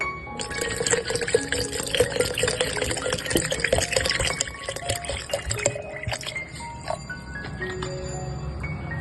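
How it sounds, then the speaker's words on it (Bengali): Water poured into a mango puree mixture for homemade mango Frooti, a steady close splashing and trickling stream with dripping, running alone for several seconds before easing off. "এরপর আমি এর মধ্যে পরিমাণ মতো জল দিয়ে দেবো।"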